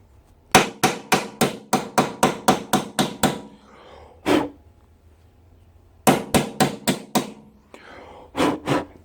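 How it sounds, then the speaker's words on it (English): A hammer taps a steering head bearing race into its seat on a GSXR750 motorcycle, a close, sharp run of about ten evenly spaced metallic strikes, a pause, a single blow, then another quick burst and two more hits. "you can even use the magic hammer to do this."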